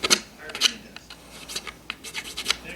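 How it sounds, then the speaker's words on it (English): A small file rasps against a surface to abrade fuzzy fur off it, giving short irregular scratchy strokes, close and moderately loud, with faint speech in the background. "I've tried using a small file to get the fur off, which can work"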